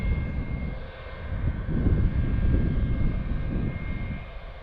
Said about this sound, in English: Delta's taxiing to the terminal.